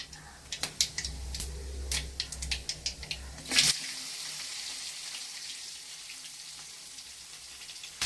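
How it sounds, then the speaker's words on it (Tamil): Scattered crackles and pops as fennel seeds fry in a pan, then a softer steady sizzle of garlic and onion that carries on quietly. "சோம்பு பொரிஞ்ச உடனே நம்ம பூண்டு வெங்காயம் எல்லாம் போட்டு ஒன்று ஒன்றா வதக்கிக்கலாம்."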